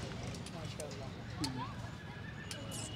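Horses and young foals mill about at a crowded horse fair, with a brief whinny rising out of a busy, murmuring outdoor crowd and voices talking throughout.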